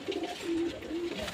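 Rampuri pigeons coo softly up close in a short series of low, rolling calls, three or four in quick succession with no talk.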